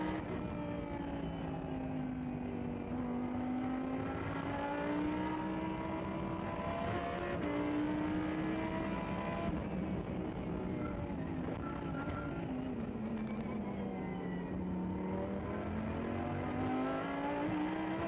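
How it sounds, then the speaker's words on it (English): Onboard engine of a Super Trofeo race car lapping Inje Speedium in the rain, a loud continuous roar rising and falling through gear changes with steady revs, no talk over it. "We ride back on board with Jung Woo Lee. Let's listen in."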